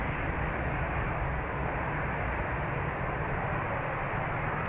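An airliner's jet engine roars steadily at Dublin Airport, a continuous broadband rumble and hiss that stays loud and unchanging throughout, with no voices over it.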